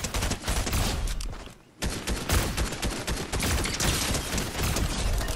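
Suppressed pistol fire in a video game gun-game match set in a modern mansion, with rapid overlapping shots and game effects in dense, loud bursts with one brief lull.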